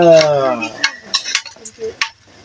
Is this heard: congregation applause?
no